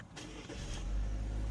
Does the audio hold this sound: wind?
no